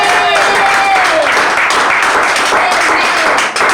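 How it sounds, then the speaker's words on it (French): A church congregation claps loudly in continuous, dense applause with shouts and voices mixed in, near and sustained for several seconds at a Pentecost service. "Est-ce que tu peux acclamer Jésus? Oh, acclame Jésus"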